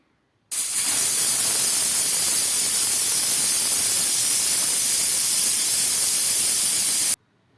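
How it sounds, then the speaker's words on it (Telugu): A pressure cooker on a gas stove, cooking mango dal, lets off a loud, steady hiss of steam that starts abruptly, holds unbroken for about six and a half seconds, then cuts off sharply. "కుక్కర్ మూత పెట్టి ఈ విధంగా గ్యాస్ మీద పెట్టి 3 విజిల్ వేయించుకోవాలండి"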